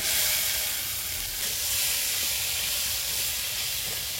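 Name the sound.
fried potato and stalks added to hot oil, sizzling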